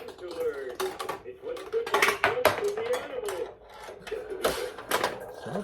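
Rapid metallic clatter and pinging of a ball shot through a restored 1960s Maruto vintage pachinko machine, busy rattling bursts throughout, with someone talking over it.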